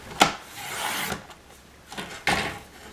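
A paper trimmer slices an inch off a sheet, with a few short scraping rasps, a longer sliding rub in the middle and a final scrape, close and fairly quiet.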